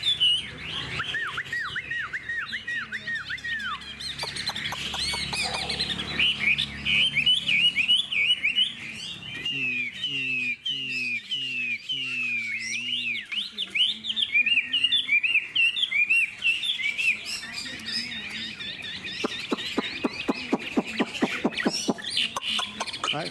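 A Chinese hwamei songbird sings loudly and continuously at close range, a rich, varied stream of whistles, trills and repeated phrases with scarcely a pause.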